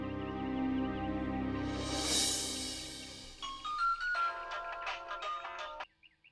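A mobile phone rings indoors during a TV drama scene: a short ascending electronic ringtone melody plays clearly for a few seconds before cutting off abruptly, preceded by music and ambient sound.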